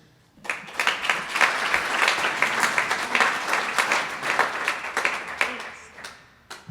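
Audience applause welcoming a speaker at a Sunday morning Alcoholics Anonymous meeting on Ohio Street: a room full of hands clapping, rising quickly, holding steady for several seconds, then fading out, with faint voices mixed in.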